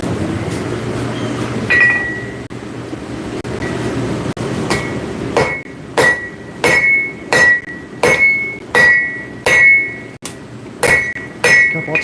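A hammer strikes a piece of hot forged steel to flatten it in a forging workshop. After a quieter stretch with a couple of light taps, a rapid run of sharp, ringing metallic blows follows at an even rhythm, close and loud.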